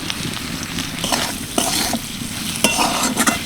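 Spices and salt being stirred into chicken in a pan with a steady frying sizzle, scraping strokes of a spoon against the pan coming through at intervals, close and moderately loud.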